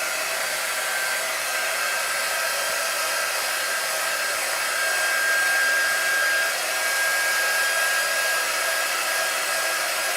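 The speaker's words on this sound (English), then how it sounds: "We're gonna get our dryer. And let's get this dry." A hair dryer blows continuously while drying chalk paint on a craft piece, a loud steady broadband whoosh with no pauses and no talking.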